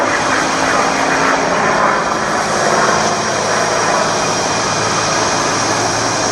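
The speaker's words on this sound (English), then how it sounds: "There's no other sound in the world, ladies and gentlemen, than that of a P-51 Mustang." A loud, roaring P-51 Mustang piston engine drones steadily close by during an airshow routine, a thick rumbling growl with no pauses.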